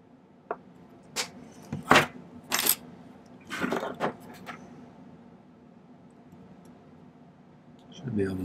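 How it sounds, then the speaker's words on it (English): Scrap silver wire snipped with cutters at a jeweller's bench, a few sharp, close clicks and snaps spaced over several seconds, followed by a quiet stretch and a faint knock at the end. "I'm just going to snip this off right there"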